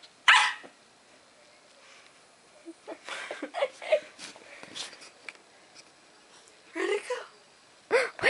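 A tiny Yorkshire terrier gives a few short, high yips and barks in scattered bursts, close by and fairly loud, with people talking around it indoors.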